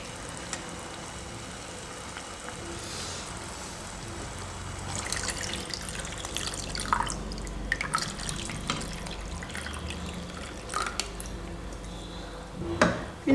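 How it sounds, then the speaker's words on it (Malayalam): Cornflour mix is poured into Bombay Karachi halwa and stirred in a pan. Soft liquid trickling gives way to wet stirring and scraping, with a few sharper clinks against the pan near the end. "ഞാനിതൊന്ന് മിക്സ് ചെയ്തതിന് ശേഷം നമ്മുടെ കോൺഫ്ലോർ മിക്സ് ഇതിലേക്ക് സാവധാനം ചേർത്ത് കൊടുക്കട്ടെ."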